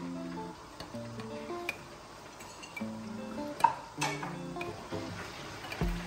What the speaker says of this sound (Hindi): अच्छे तरीके से इसको हम मिक्स कर लेंगे